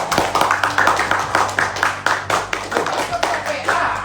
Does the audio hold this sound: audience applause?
yes